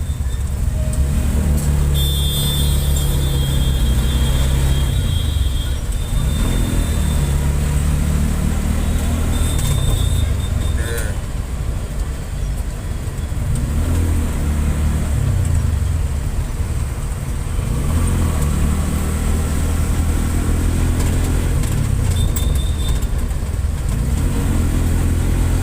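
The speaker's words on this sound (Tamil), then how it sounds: "சிக்னல் கிட்ட வந்தால் டிராஃபிக் இருக்க தான் செய்யும்." Busy road traffic near a traffic signal: cars and buses rumble and rev past in waves, with engines accelerating close by and occasional horn-like tones, while people talk over the steady noise.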